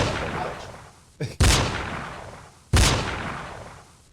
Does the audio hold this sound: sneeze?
no